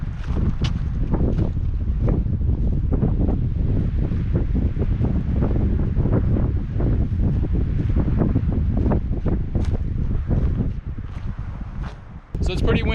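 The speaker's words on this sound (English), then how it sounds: "pretty windy up here, so I don't know how well you guys can hear me" Strong gusty wind buffets the microphone on a rocky clifftop on the Mogollon Rim, a loud continuous roar with rumbling bursts, while a person talks under it.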